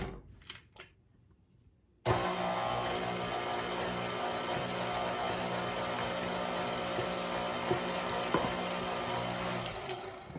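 An electric mixer creaming butter and sugar for a pear cake switches on abruptly after a few quiet clicks, then whirs in a steady close motor drone with faint beater rattling.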